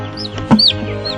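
Chickens on a contracted chick-rearing farm in Delaware give a short, close burst of clucks and chirps, a single sharp call standing out over steady flock noise.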